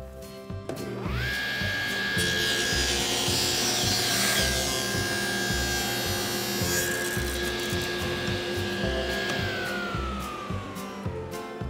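A table saw with its throat gap closed cuts thin wood strips: a high, steady whine of the running blade and a rougher cutting rasp, loud and close for about ten seconds.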